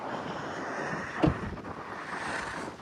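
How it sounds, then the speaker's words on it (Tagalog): Steady wind buffets the microphone at a coastal overlook in Oregon, a broad continuous roar with one brief louder gust partway through; no voices. "Ang hangin."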